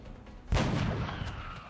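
Gunfire in the video game XCOM: Enemy Unknown, a single heavy booming shot that hits abruptly and trails off into a rumbling decay, loud and without speech.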